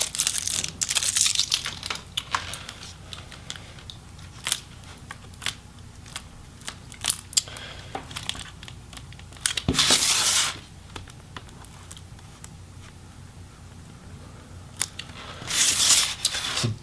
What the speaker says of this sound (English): Let's get this tape out of the way.